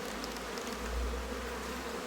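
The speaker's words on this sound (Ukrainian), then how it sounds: "бджола розсосереджена, така гудить, нервова" A steady, dense drone of many queenless honeybees humming continuously, agitated and close, with no voices.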